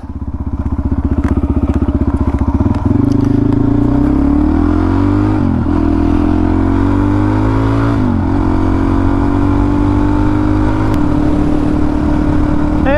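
A Suzuki DRZ400 motorcycle engine drones loudly and continuously close to the mic as the bike is ridden, its pitch rising and then dropping back at several gear changes.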